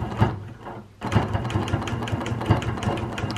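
A sewing machine free-motion quilts a giraffe quilt, a rapid rhythmic needle chatter that stops briefly, then resumes with steady pulsing stitches close by.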